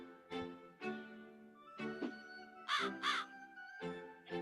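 A crow cawing as an audiobook sound effect, a series of about eight harsh, nasal caws in an irregular rhythm, some paired close together, clear and alone against silence.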